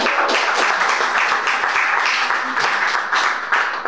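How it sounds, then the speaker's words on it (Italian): Audience applauding at a ceremony presenting a numbered copy of a first edition of the Divine Comedy, steady full clapping throughout, close and continuous with no talk over it. "un applauso e quindi un ringraziamento va ancora una volta al sindaco Stefano Zuccherini"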